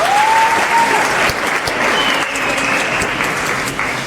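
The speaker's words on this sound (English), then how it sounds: "Can we have a round of applause to me?" An audience gives a round of applause at a presentation event, a dense, loud burst of clapping that continues throughout while a faint tone rises briefly in the background.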